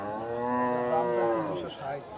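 A single beef cow lets out a long, loud moo close by at Chandimura market, drawn out and wavering before trailing off.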